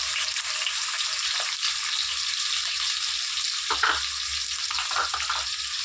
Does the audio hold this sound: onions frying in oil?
yes